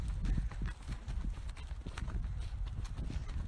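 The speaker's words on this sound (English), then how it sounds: "We are trail riding in Miles Standish." Horse hooves clip-clop steadily on a trail ride through Miles Standish, Massachusetts, a rescue horse carrying its rider; the hoofbeats are close and continuous with some rustling, and no one talks.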